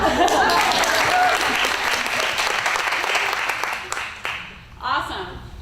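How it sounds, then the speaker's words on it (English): An audience applauds for Sarah at an evening dialogue event, a dense, steady burst of clapping that carries for several seconds, then thins and fades, with a short swell near the end before it dies away. "Round of applause for Sarah."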